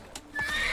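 A horse in The Witcher 3 whinnies in a rising, bright neigh that swells and holds near the end, preceded by a faint clop and soft rustle, fairly close and with no talk.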